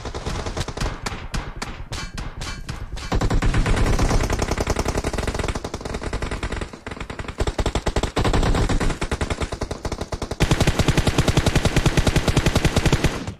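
Sustained automatic gunfire hammers on for over thirteen seconds in an online shooter video game. Fast, evenly spaced shots run in long, loud streams, with several short breaks and shifts in intensity.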